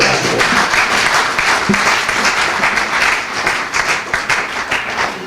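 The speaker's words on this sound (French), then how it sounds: "Applaudissons Jésus-Christ." A church congregation bursts into sustained, loud applause, dense clapping filling the space steadily from start to finish with a few vocal sounds mixed in.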